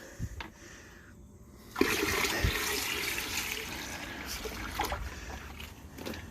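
Water from a hose rinses ash off IC chips for gold recovery, a steady rushing splash that starts abruptly after a quiet moment and continues loud and close, with no talk.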